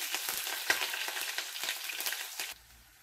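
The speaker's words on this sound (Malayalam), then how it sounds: "ചൂടായ എണ്ണയിലേക്ക് നമുക്ക് കടുകിട്ട് കൊടുക്കാം." Mustard seeds, green chillies, dry red chillies and curry leaves fry in hot oil for a bitter gourd curry, giving a close, steady sizzle with crackling pops that fades out near the end.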